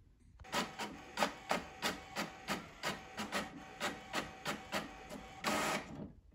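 A printer prints course pages with a regular run of about fifteen mechanical strokes, evenly spaced rhythmic whirring pulses that end in a longer grinding feed, close and clear with no talking.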